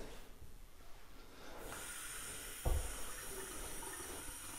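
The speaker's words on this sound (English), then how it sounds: "look at these faucets" Fancy faucets in a large luxury bathroom in Ancaster, Ontario: water runs in a steady hissing stream from a tap, with a brief knock partway through.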